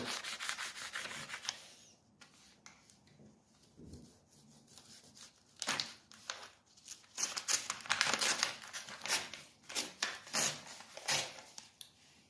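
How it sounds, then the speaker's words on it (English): A knife built from Lego drags and saws through material, making rough scraping strokes in bursts that grow louder and denser toward the end, close up with no talking. "So now let's try with this Lego knife right here. Will it cut through?"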